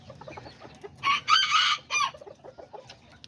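A small kikiriki rooster lets out a short, loud crow close by, with soft clucking from other chickens and roosters before and after it in a quiet yard.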